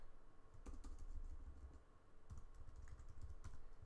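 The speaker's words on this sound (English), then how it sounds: "just going to return down and type in the date" Typing on a computer keyboard, with irregular bursts of soft key clicks and a brief pause in the middle; close and fairly quiet, no voices.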